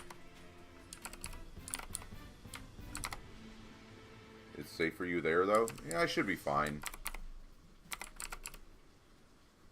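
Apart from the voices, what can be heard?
typing on a Razer computer keyboard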